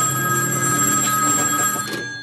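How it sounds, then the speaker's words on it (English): A telephone bell rings loudly and steadily at close range, a continuous electronic trill lasting about two seconds before fading. "yuppie businessman Shepard Stewart is about to take a phone call that will change his life forever."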